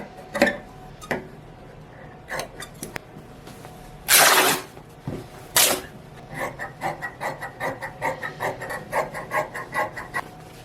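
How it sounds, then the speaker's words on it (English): Scissors snip through thrifted cotton bedsheet fabric while a skirt is cut out, with two loud rasping bursts in the middle and a run of quick, even clipping sounds toward the end, close up with no talking. "And now we can cut out the skirt."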